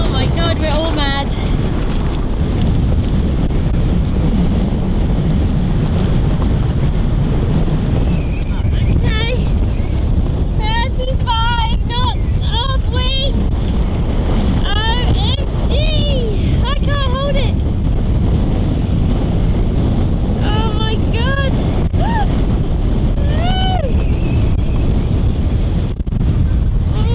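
Strong wind of around 40 knots roars continuously over rough water around a boat, buffeting the microphone at a steady loud level, with sloshing, scattered high whistling squeals and occasional voices.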